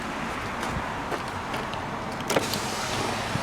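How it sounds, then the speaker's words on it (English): Power windows running in a 2009 Pontiac G6, a quiet steady electric motor whir inside the car, faint and continuous with a few small clicks and bumps and no talking. "Got automatic windows."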